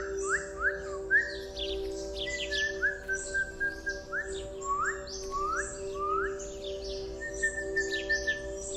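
Several birds chirp and tweet in quick, overlapping calls over a steady low hum indoors, bright and fairly close, continuing throughout.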